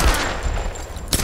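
Gunfire in the video game Tomb Raider (2013): a brief, loud burst of rapid shots crackles close up within about a second.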